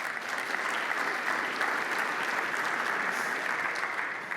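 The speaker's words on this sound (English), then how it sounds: "Please give them a round of applause." Sustained applause from a conference audience at a real estate standards fall event, an even, continuous roar of many hands clapping at moderate volume with no talk over it.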